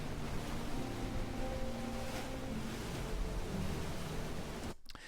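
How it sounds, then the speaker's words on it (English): Ocean waves crash in a continuous broadband roar from a stock sound effect, a dense wash of surf that stays loud and steady before cutting off abruptly near the end. "this is a sound effect that I found from Artlist again, which is the waves crashing."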